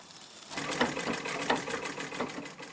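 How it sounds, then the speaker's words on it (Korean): An old sewing machine brought as a bride's dowry stitches fabric with a rapid, steady rattling chug that swells and eases a few times, close and alone with no talk. "나 혼수로 해온 요 재봉틀 이날가장 잘 써먹는다. 요 놈으로 들들들들 박아불면"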